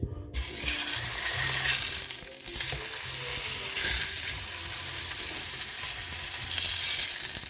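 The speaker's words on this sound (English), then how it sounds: "Now we're going to chuck the steak on, but when you chuck it on, you make sure that you slide it around so it doesn't stick" Steak sizzles in an oiled frying pan, a continuous close, bright frying hiss with small shifts as the meat is slid around.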